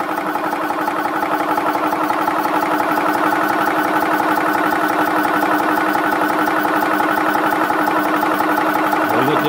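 Aegon PCP HPA air compressor for air rifles and pistols running steadily, a loud, close, continuous mechanical drone with a fast rhythmic pulsing throughout.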